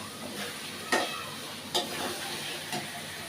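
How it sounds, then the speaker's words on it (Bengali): Hilsa fish head frying in a spice paste in a pan, giving a steady, close sizzle with three brief louder bursts as it is stirred or shifted. "এখন আমি ইলিশ মাছের মাথাটা দিয়ে দেব, দিয়ে সামান্য একটু কষিয়ে নেব।"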